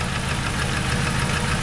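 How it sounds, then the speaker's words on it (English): Car engine with a suspected bottom-end fault runs with a steady, loud knocking rumble close by, a continuous mechanical clatter under the engine drone for the whole stretch, no voices. "Now if I do rev it, that knocking sound does get louder."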